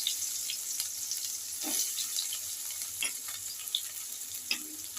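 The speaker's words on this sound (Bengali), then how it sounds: "এই তেলেতে আমি দিয়ে দিচ্ছি তেজপাতা ফোড়ন, আর দিয়ে দেবো পেঁয়াজ কুচি" Bay leaf and chopped onion hit hot oil in a pan, producing a soft steady sizzle with occasional pops and stirring scrapes, close and without talk.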